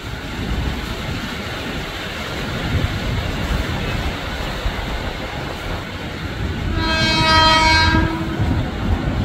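A Jakarta KRL commuter train rumbles steadily on the tracks arriving at Universitas Indonesia station, then a loud horn blares for a couple of seconds as it nears, the roar growing slightly.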